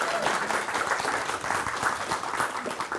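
A crowd claps steadily and loudly for a few seconds, continuous applause without pauses.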